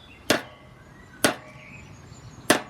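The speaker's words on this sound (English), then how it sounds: "So I get a jeweler's screwdriver and just start tapping some" Jeweler's screwdriver tapping a brickwork or stonework texture into 12mm ply for a TT:120 model railway platform: three sharp, close taps spaced about a second apart, with no talk.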